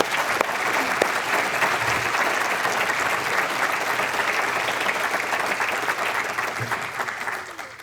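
Audience at a Maine Climate Council meeting applauding a panel: dense, sustained clapping from a sizeable crowd at steady volume for several seconds, tapering slightly at the end.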